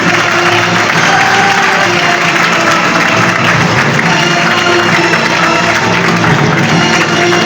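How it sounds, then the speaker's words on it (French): Steady applause from an audience at a children's reading contest at a book fair in Libreville, a dense, even wash of clapping that continues without pause, fairly loud and close. "Sous vos applaudissements, s'il vous plaît."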